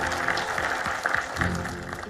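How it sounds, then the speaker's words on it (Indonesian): A group of women applauding indoors, a steady patter of many hands clapping at moderate volume for about two seconds with no speech over it. "Tepuk tangan dulu dong"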